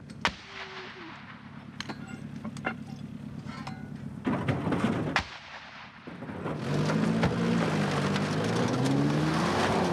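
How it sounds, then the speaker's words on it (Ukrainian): An 82 mm mortar fires outdoors during a National Guard crew's combat work, with several sharp, booming launches spread across the stretch, a vehicle engine droning and revving underneath. "Постріл! Заряджай! І допоки міни 82-го калібру ще прямують до цілі"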